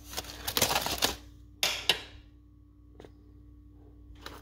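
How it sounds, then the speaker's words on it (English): A hot dinner roll is torn apart by hand, giving a few short soft tearing and crackling bursts close by, then quiet apart from a couple of faint clicks. "Let's see if I can tear it apart."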